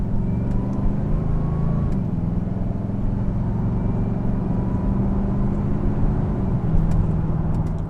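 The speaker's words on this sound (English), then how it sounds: "This is the drone under a moderate acceleration." From the cabin of a supercharged HSV LSA R8 Maloo ute fitted with a Di Filippo (DPE) cat-back exhaust, a loud, sustained exhaust drone builds under moderate acceleration, with the engine pitch climbing, one clear gear change, then another steady pull.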